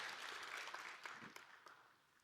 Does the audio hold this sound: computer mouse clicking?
no